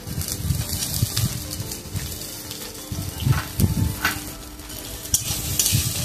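Chopped onions sizzle steadily in a pan while being stirred, with scraping strokes and bubbling close by and fairly loud, no talk over it.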